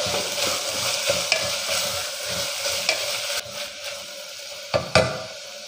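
Chopped onion fries in a pan for Angamali-style pork curry with garlic, ginger and green chili, a close steady sizzle under rhythmic stirring scrapes and a couple of sharp spoon knocks on the pan, no talking.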